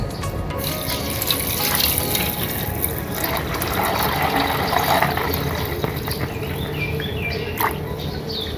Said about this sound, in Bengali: এখন আমরা এখানে দিয়ে দিচ্ছি পানি